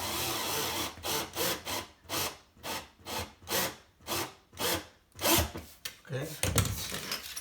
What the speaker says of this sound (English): Sometimes it's better to use a screwdriver.